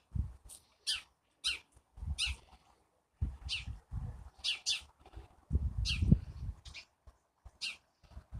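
A small bird caught by a cat gives repeated high, thin chirps in short bursts, close and fairly clear, with low rustling and thumps of the struggle between calls.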